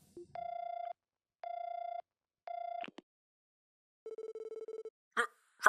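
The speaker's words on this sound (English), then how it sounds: "I'll give their number a call and see if they pick up." A phone rings in the video game Trails from Zero, three steady electronic rings followed by a buzzing pulsed tone, then a couple of short clicks.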